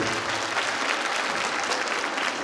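Dense, steady applause from a large audience at a live on-stage hair demo fills the whole moment, loud and continuous without any break.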